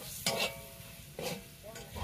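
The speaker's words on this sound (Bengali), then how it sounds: "এবার নেড়ে দেবো।" Chicken filling for singara is stirred in a frying pan, with three bursts of a spoon scraping through sizzling mince over a low, steady fry.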